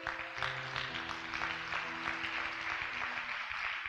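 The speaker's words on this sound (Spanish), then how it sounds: "¿Le puedes dar un aplauso al Señor?" A church congregation applauds at a Sunday service, a soft steady patter of many hands under a sustained tonal hum, somewhat distant and faint.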